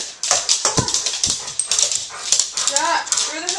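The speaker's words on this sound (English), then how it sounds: "today we are watching my dog being silly" A pet dog yips, whimpers and gives short barks while performing hoop jumps indoors, the sharp bursts scattered between excited human talk close by.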